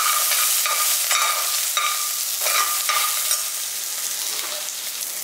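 Ingredients for a soya and peas kurma fry in a pan with a steady, bright sizzle. A spoon scrapes and stirs through them at intervals, sounding close and clear with no voices.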